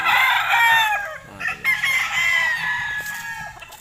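An alimbuyugin rooster crows up close, one long, clear, wavering call with a brief break partway through, then trailing off at the end.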